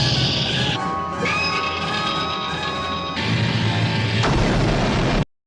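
Explosion effect from the Star Trek original series episode 'The Doomsday Machine', a dense roaring blast with shifting electronic tones and rumble, building to a louder burst before cutting off abruptly.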